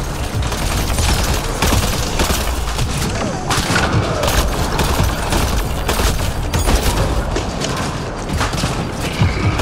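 Turret gunfire in the video game Mass Effect: Andromeda, a dense, continuous fusillade of rapid shots and booming impacts that holds loud for the whole stretch without a break.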